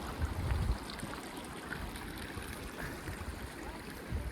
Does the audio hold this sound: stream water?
yes